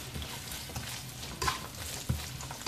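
Sliced onions frying in a pan toward a light golden colour while butter chicken is cooked: a continuous soft sizzle with a couple of louder stirring scrapes, close and steady, no talking.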